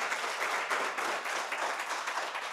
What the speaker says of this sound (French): Je voudrais vous demander de vous remercier vous-même à travers des applaudissements dignes.